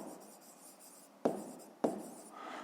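Pen or pencil scratching steadily on paper while a fifth-grade math exercise solution is written out, with two sharper taps as the pen lands between strokes; quiet and close, no talk.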